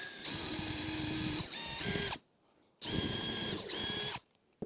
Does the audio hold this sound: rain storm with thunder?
no